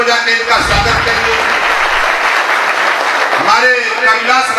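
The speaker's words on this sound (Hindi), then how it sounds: "जोरदार ताली बजा के इनका स्वागत करिए।" Loud, sustained applause from a crowd at a political rally in Uttar Pradesh, clapping densely and continuously throughout, with voices mixed in beneath.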